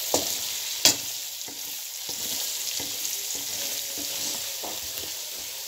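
Red chili, turmeric, coriander powder, carom seeds and nigella seeds fry in hot oil for aloo gobi, giving a steady close sizzle broken by scraping stirs and one sharp clank of the spoon against the pan.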